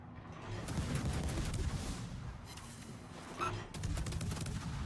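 Warship guns firing in the naval game World of Warships from a cruiser, a dense rumbling barrage of booming salvos with crackling bursts, loud and continuous.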